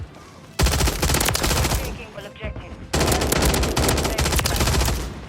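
Rapid automatic fire from an AMR9 in Modern Warfare 3, two long loud bursts of dense, fast shots separated by a short pause, with a voice talking underneath.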